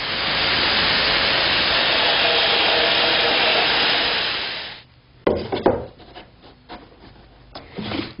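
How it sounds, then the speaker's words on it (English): A Bosch drill bores 35mm holes through a wooden board for a chicken coop, a loud steady whirring grind for about five seconds that cuts off, followed by scattered knocks and handling noises. "All I'm going to do is drill 3 35mm diameter holes in one of the boards near the top."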